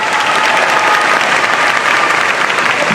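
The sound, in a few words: audience applause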